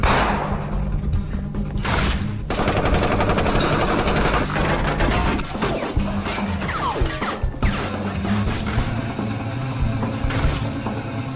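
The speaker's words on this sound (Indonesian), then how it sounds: "Inspektur Ma memulai aksinya tersebut dan terjadilah baku tembak di sana" Movie shootout with dense, continuous gunfire and crashing impacts, loud and chaotic throughout, layered with rumbling effects and no pauses.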